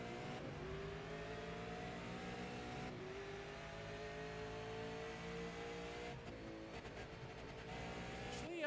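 A Trans Am race car at Sebring International Raceway with its throttle fed in, the engine droning loudly and steadily with shifting pitch and brief rising revs toward the end.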